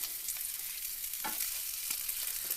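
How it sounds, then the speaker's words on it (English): Onions sizzle steadily in a pan on a camping stove during a winter backpacking trip in Arizona, a close, continuous crackling hiss broken by a few soft scraping stirs. "Now, I got some onions. So I'm going to put right down in there."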